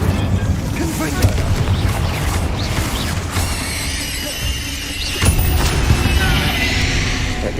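Confringo fire spells exploding in the Hogwarts Legacy video game, loud blasts and a sharp crack standing out from a busy, dense game soundtrack with layered effects throughout.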